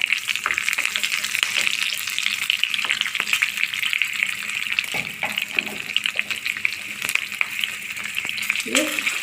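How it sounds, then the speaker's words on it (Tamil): Green chilies crackling in hot oil with cumin seeds, a dense continuous close sizzle with small pops and occasional stirring clinks, with no other sound over it. "பச்சை மிளகா பொரியட்டும்"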